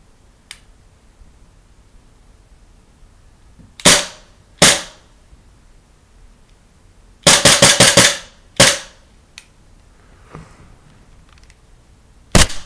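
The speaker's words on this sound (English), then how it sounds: "Now let's test out the blowback action." KJW P229 gas blowback airsoft pistol firing, sharp snappy cracks alone in a quiet room: two single shots, then a quick burst of about five, then a couple more scattered shots, each close and loud.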